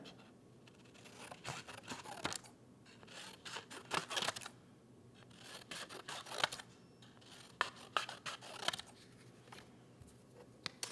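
Scissors snip through colored craft paper cut into pink, gray and yellow pieces for a bookworm bookmark. The cuts come as repeated short crisp bursts in uneven clusters, close and clear, with no voices.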